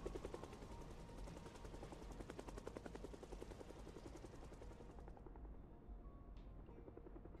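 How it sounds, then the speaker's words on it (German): A helicopter in the video game Project Zomboid flies overhead, producing a steady rapid rotor thumping that stays loud and constant, then the upper hiss cuts away abruptly near the end while the low chopping continues. "Jetzt kommt schon wieder der Helikopter."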